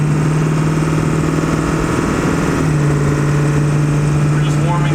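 A Ford 7.3L Powerstroke diesel with straight-pipe exhaust idles steadily and loudly, warming up, with a constant low rumble and a faint rise late on; no one speaks.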